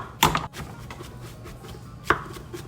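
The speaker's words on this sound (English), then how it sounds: "Now with my knife, we're just gonna kind of chop them a little bit finer" Knife chopping vegetables on a cutting board, two firm close strikes about two seconds apart with faint lighter taps in between, in a quiet kitchen.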